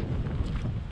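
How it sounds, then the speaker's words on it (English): Strong wind roaring through an icy mountain gap in Georgia, a steady loud low rumble of buffeting against the microphone with no voices. "wind, but it's brutal"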